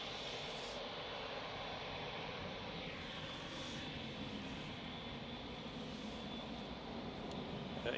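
KLM Boeing 737-800 arriving at Manchester Airport from Amsterdam, a steady distant jet roar that holds evenly throughout, with no talk over it.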